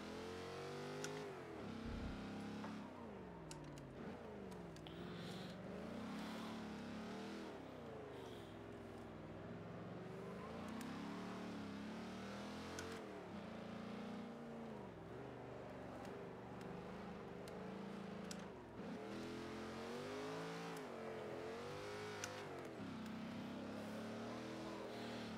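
A race car on an autocross course in Forza Motorsport 7 revs continuously, its engine pitch sweeping up and down through repeated gear changes and throttle lifts, faint and distant throughout.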